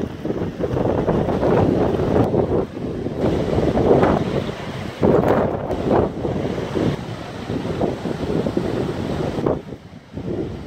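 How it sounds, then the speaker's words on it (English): Strong wind blows steadily outdoors on a mild day after snowfall, with snow melting off a roof; loud, gusty buffeting of the microphone continues throughout, with no talk. "Wind is blowing, and got some pretty good melting going on now."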